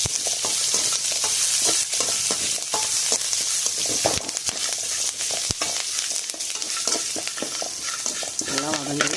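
Drumstick leaves sauté in a pan with a loud, steady sizzle throughout, punctuated by frequent close scraping strokes of a spatula.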